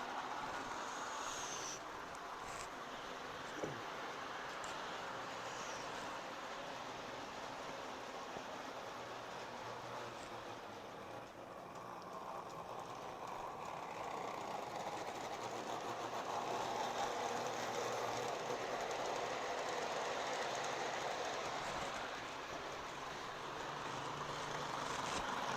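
A 1970s Lionel model train runs on track past a crossing gate, giving a steady, quiet mechanical whirring rumble that dips slightly midway and then builds again.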